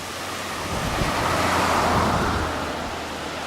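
Gusty wind blows across open English countryside, a continuous roar that swells and buffets the microphone for a few seconds, with no speech.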